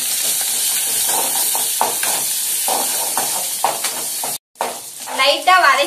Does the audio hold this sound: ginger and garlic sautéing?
yes